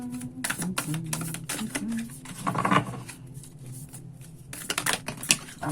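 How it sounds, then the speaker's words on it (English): Tarot cards are shuffled by hand in quick bursts of crisp, papery flicks and riffles, close and fairly soft, over a faint low background murmur. "So please try to focus on one question as I shuffle."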